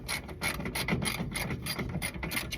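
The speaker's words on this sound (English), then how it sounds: "Get the back bolts out." Bolts being wrenched out of the fuel tank of a 1971 Chevrolet C10 pickup, a continuous close rapid ratcheting with a rasping, scraping edge.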